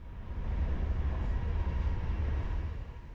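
Inside a Polish PKP passenger train on the Berlin to Krakow line, a steady low rumble of wheels and carriage fills the space evenly and without pause, with no voices.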